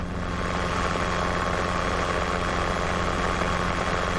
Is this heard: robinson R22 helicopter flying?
yes